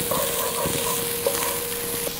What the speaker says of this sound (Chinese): 在锅里放少量的油爆葱姜蒜，油不要太多，等油化了以后我们就要爆那个葱姜蒜